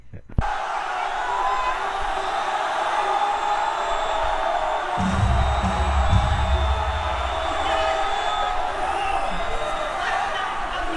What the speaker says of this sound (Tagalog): Grabing sigawan ng mga kapatid natin sa iglesia, grabing sigawan sa paglalantad ni Senator Amy.